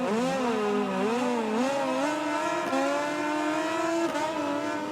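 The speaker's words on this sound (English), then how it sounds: "The Stone revs it up, middle of the second row, waiting for the lights to go out." Racing motorcycle engines rev hard on the grid at a race start in the MotoGP 20 video game, a loud continuous whine of rising and falling pitch with several bikes layered together and no talk.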